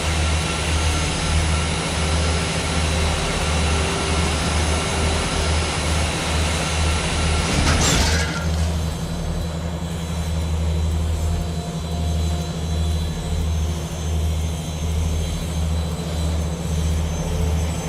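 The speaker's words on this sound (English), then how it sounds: "If I lean out any further, the engine will pull me in." A loud, steady mechanical roar with a low droning hum fills the scene in the game Technobabylon, then shifts abruptly to a quieter engine hum after a brief burst of noise.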